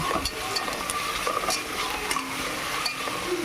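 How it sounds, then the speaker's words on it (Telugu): Coriander and curry leaves frying in a pan for cauliflower biryani, giving a steady close sizzle with light crackles and scraping stirs throughout, no voices. "కొంచెం కొత్తిమీర, కొంచెం కరివేపాకు బాగా వేపుకుందాం."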